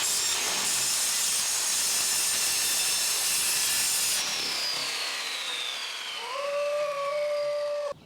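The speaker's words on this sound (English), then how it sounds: "what I'm doing here is I put the ramp underneath this so that when I'm cutting it, this doesn't fall all the way and then cinch the blade" A saw cuts through a board for a wooden launch ramp, a loud, steady rasping whine for several seconds that then eases into a fading, lower ringing tone as the cut ends.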